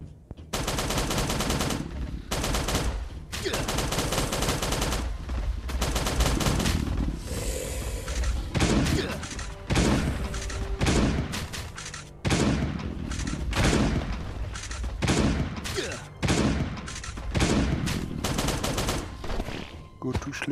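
Rapid bursts of shotgun fire from a zombie survival game, Last Day on Earth, loud and dense, repeating in quick volleys with brief gaps throughout, with faint voices underneath.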